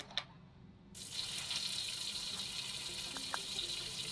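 Water runs steadily from a tap in the video game Avatar World, a soft continuous gushing that starts after a brief click and carries on evenly, with a couple of faint clicks near the end.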